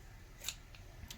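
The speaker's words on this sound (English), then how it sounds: "turn your scissors a little sideways, you end up cutting just the bottom of the cotton" Scissors snip cotton wick for a vape coil build: two quiet, crisp cuts about half a second apart, close and alone with no talk.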